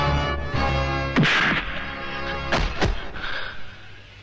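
Punches and blows landing on a man during a Hindi movie fight scene, several sharp thuds and whacks in quick succession over a low rumbling score.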